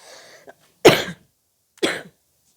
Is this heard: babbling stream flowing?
no